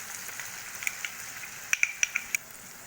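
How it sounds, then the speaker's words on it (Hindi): Spice paste being stirred into tomato masala in a pan, giving a soft steady sizzle with a run of sharp utensil clinks near the end. "अब मैंने जो इसमें मसाले का घोल रखा था वो डाल दूंगी।"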